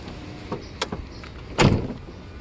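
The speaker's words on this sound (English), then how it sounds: "Open the window, it's really hot in here." A power window on a Mercedes SL R129 moves, a brief motor whir followed by a couple of clicks and a dull thump inside the car cabin.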